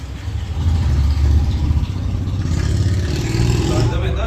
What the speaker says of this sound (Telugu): బైక్ సౌండ్ అన్నీ వినిపిస్తున్నాయి, ఎయిర్ నాయిస్.